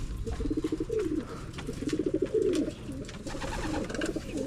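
Several racing pigeons returning home coo in repeated throaty, rolling calls, close by, with soft shuffling and a faint chirp in the background.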